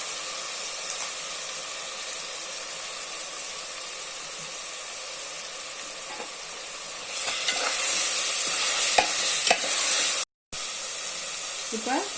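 Tomatoes fry with ginger garlic paste, mint and coriander in a pan, giving a steady hiss and sizzle that grows louder partway through, with occasional stirring scrapes.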